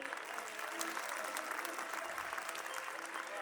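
An audience applauds nursery school children at a school function, a dense, steady patter of many hands clapping continuously at moderate distance, fairly faint, with no voices standing out.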